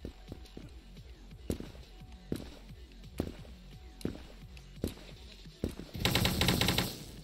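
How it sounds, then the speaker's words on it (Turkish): Rapid automatic gunfire in the Krunker browser shooter arrives as a dense, loud burst near the end, preceded by quieter spaced single shots and footsteps. "Abi adam hızlı vuruyor. Çok hızlı vuruyor."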